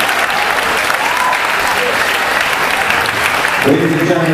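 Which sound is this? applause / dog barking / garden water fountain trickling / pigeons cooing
applause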